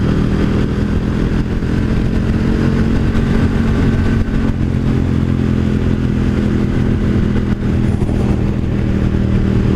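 A 2018 KTM 1290 Superduke motorcycle engine while riding, a loud, steady, close rumble with wind noise that holds for the whole stretch.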